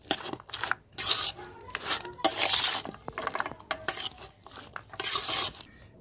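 Close, uneven crunching and rustling as churmur ingredients with chopped green chilli are mixed by hand in a bowl, bursts of scraping and crackling stirs separated by short quiet gaps, no voices.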